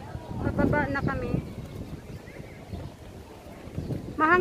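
Steady wind buffeting the microphone with a low rumble throughout, high up on a tower at a waterfront park, while a person talks over it in short bursts.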